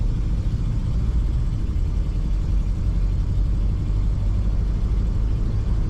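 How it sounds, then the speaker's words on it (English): A 1949 Cadillac Series 61 Sedanette idles quietly and smoothly, a low, even rumble held steady throughout with no talking. "This car starts right up, purrs nice and quiet."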